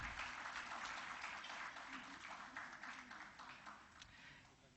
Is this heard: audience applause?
yes